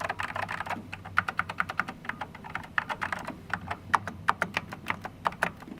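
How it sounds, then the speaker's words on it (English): Keys clatter steadily on a second-hand computer keyboard with a resoldered port, rapid uneven keystrokes close to the listener, each one a crisp click over a low background hum, with no talking. "I just want you to hear this keyboard."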